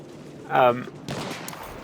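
Gunfire from the video game Battlefield 1: a brief loud burst of shots, then a steady stretch of rattling distant fire continuing to the end.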